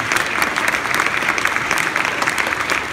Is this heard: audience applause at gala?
yes